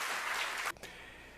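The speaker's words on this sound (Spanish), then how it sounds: "un fuerte aplauso para el sociólogo Wilfredo Lozano" Audience applause at a book launch honoring sociologist Wilfredo Lozano: a dense burst of clapping from a seated crowd that stops abruptly partway through, leaving quiet room tone.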